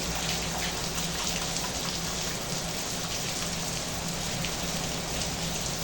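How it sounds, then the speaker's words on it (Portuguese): Steady wind-driven rain drizzling onto a covered outdoor area on a hot day in Maringá, a dense continuous hiss of drops holding an even level throughout with no voices. "o vento está trazendo a chuva aqui"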